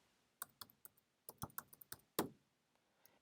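Keys clacking on a computer keyboard in short irregular bursts, close and quiet in a still room, with no talking.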